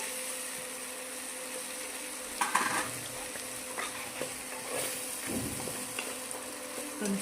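Chili powder frying in a pan over a non-gas stove, giving a steady soft sizzle with occasional clinks and stirring scrapes.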